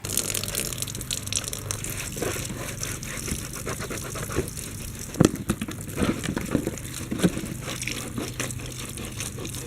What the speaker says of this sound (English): I'm just using water to wash this.